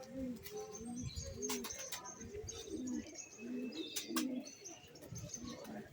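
Several pigeons coo in soft repeated rounds close by, with occasional chirps and light rustling between the calls.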